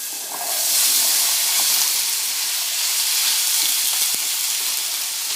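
Potatoes sizzle in hot olive oil in a pan, a loud, steady, bright hiss that swells in as they hit the oil and stays constant, with no talking.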